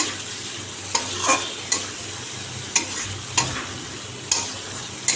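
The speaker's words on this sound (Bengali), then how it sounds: "আমি আলুগুলো এবার দিয়ে দিলাম দিয়ে ভালো করে এটা আর একটু কষিয়ে নিই" Potatoes stir-fried in hot oil with spices for a jackfruit curry, a steady low sizzle broken by several sharp scraping strokes of a spatula against the pan, close and clear with no talking.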